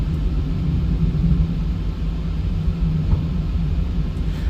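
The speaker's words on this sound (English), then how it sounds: "Alright, APU spooling up. APU is available." In the PMDG Boeing 737-8 flight simulator, the APU spools up as a continuous low rumbling drone of steady loudness throughout, with no talking.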